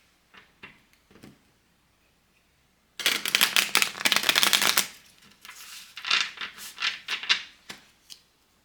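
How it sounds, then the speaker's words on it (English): Tarot cards shuffled in quick, rustling riffle bursts, a few soft taps at first, then a loud dense flurry followed by several shorter shuffling bursts, close up with no talking. "I think I gave that a good 3 shuffle."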